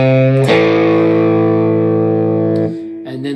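A distorted electric guitar rings out one power chord, struck loud and held with saturated sustain for about two seconds before being choked off, followed by a few brief scratchy strums.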